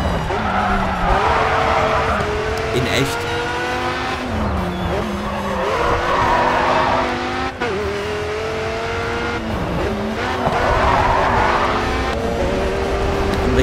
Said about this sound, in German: Schöner LKW-Motor,